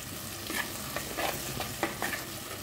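Food frying in oil for an egg chops curry is stirred in several distinct scraping strokes over a soft, constant sizzle, close and fairly quiet, with no speech.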